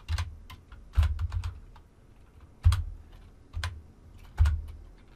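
Typing on a computer keyboard, bursts of quick key clicks separated by short pauses, close and moderately loud with no voices.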